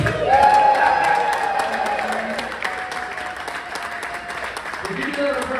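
A theatre audience aboard the Sky Princess cruise ship at sea breaks into loud applause and cheering that fades gradually to a lighter patter, with a voice talking through it.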